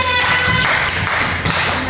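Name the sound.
class clapping hands for everyone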